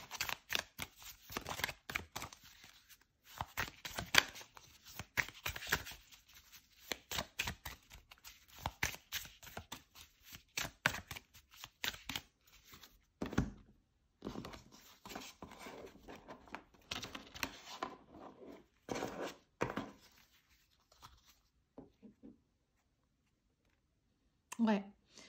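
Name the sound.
tarot cards being shuffled and drawn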